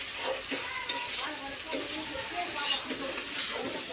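Okra fries in a pan while being stirred, a loud, continuous sizzle broken by repeated scraping strokes of a spatula, close and busy throughout with no talking.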